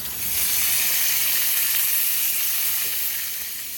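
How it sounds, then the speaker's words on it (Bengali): Cashews and raisins frying in ghee in a hot kadai make a loud, close, continuous sizzle and hiss that fades slightly at the end. "কাজু কিশমিশগুলো দিয়ে দেব"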